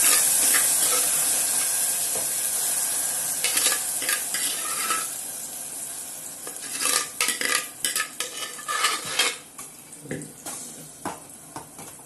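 Cooked pulichai keerai greens stirred in a pan, starting with a soft continuous hiss and then a run of close, irregular scraping and clinking strokes that grow louder toward the end.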